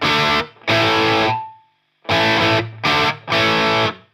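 Harley Benton Classic MR guitar on its bridge pickup with a slightly dark rock tone: loud distorted chords struck in separate blocks, the first ringing out and fading into a brief gap, then three quick punchy hits.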